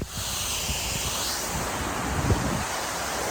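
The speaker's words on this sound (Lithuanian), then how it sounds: "atvariau prie krioklio, ne prie to slapto, prie kažkokio kito" A waterfall in Ireland roars as a steady, dense wash of rushing water, close and fairly loud, mixed with gusty wind buffeting the microphone throughout.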